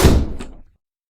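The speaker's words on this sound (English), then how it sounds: "The door behind them slammed shut." A door slams shut with a single heavy, loud thunk close by, followed by a short rattle and a quick decay into silence.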